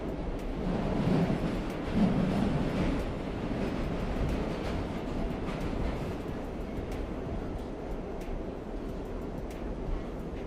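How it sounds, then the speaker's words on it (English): Steady rumbling of a train running on its tracks, a continuous low roar with faint rattling that holds an even level throughout and has no talk over it. "Are there a lot of people on this train?"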